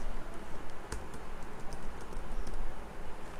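Keys clatter on a computer keyboard as text is typed, a quick run of light, faint clicks with no talking.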